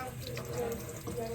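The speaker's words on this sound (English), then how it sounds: "And then I turn off my water." Tap water runs steadily into a sink as hands are rinsed, a continuous close splash with a brief dip near the end, while a voice murmurs faintly underneath.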